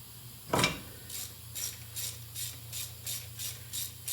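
A hand ratchet works a 10 mm bolt loose during ball joint work on a Lincoln Mark VIII, starting with one sharp click and then a steady run of about nine evenly spaced ratcheting clicks, close and alone.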